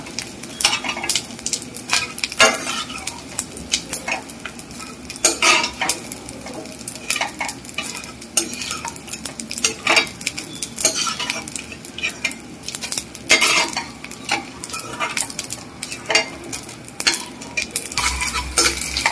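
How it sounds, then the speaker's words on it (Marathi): Pieces of edible gum (dink) fry in hot fat in a pan, a dense, steady sizzle broken by frequent sharp scrapes and clinks of a spoon stirring against the metal. The sound stays close and fairly loud with no voices throughout. "पुन्हा आपण याच्यात थोडासा डिंक, अजून थोडासा डिंक तळून घेऊया आपण."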